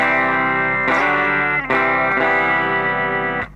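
An electric guitar plays through a Zoom G2.1Nu multi-effects pedal set to its Fender Twin Reverb amp model. Three sustained, ringing chords are struck in turn, each fading slightly before the next, and the last cuts off.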